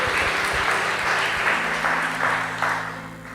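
A church congregation breaks into loud, dense applause during a sermon, close and sustained before tapering slightly at the end.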